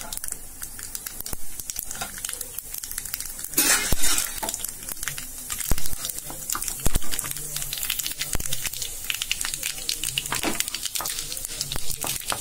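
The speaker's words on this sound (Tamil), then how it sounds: "கடுகு போடுறேன்" Mustard seeds dropped into hot oil to temper a tomato sambar, crackling and popping steadily in the pan amid clinks of a spoon against metal, with a voice speaking over it.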